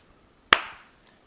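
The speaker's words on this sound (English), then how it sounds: "Sit down, do our little clap countdown" One crisp hand clap snaps close by in a quiet room, a sharp attack with a short decaying ring, marking the start of a podcast recording.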